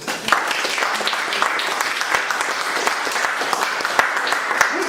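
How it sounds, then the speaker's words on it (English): An audience at a school debate breaks into applause, a continuous patter of many hands with a few sharper individual claps standing out, moderately loud and close. "Round of applause"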